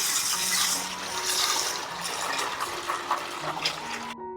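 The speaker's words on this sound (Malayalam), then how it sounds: "എണ്ണ കാച്ചെടുക്കുന്നതിന് വേണ്ടിയിട്ട് ഓട്ടുരുളിയിൽ തേങ്ങാപ്പാൽ ഒഴിച്ചു കൊടുക്കുകയാണ്" Coconut milk pours into a bronze uruli with a soft continuous liquid splash and trickle, faint and close, with a few light clinks before it stops abruptly.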